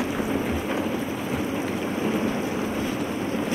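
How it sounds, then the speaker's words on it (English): Steady rain falls on the ground in The Last of Us Part 1 on PS5, a continuous even hiss of close, moderately loud rainfall with no voices over it. "look at the rain hitting the ground."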